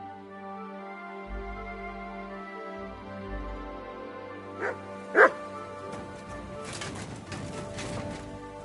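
Mutt, the dog in Kingdom Come Deliverance 2 video game, gives a couple of sharp barks midway over a humming game ambience with low tones, followed by rustling activity.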